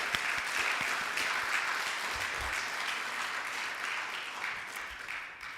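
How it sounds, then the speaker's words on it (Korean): A church congregation at a Korean Easter Sunday service applauds in praise, a broad, even roar of clapping filling the room for several seconds, steady and fairly distant. "귀한 부활의 메시지를 허락하신 하나님께 영광의 박수를 올려드립시다."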